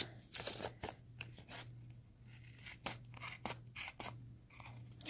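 Scissors snip a page out of a paper planner, giving a quiet, close series of short crisp cuts in an irregular rhythm.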